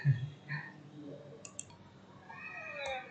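A computer mouse clicks while someone works in Mastercam 2019 2D programming software: two or three faint, sharp clicks set against a quiet room with soft, indistinct background sounds.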